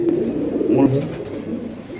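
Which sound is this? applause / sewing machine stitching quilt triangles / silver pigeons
silver pigeons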